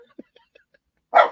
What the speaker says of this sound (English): And now he sees somebody coming up the street and he starts to bark.